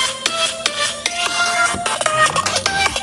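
Tinny music with chimes plays from the speaker of an old Google Pixel 3 phone, steady and fairly loud across the whole stretch with no talk over it.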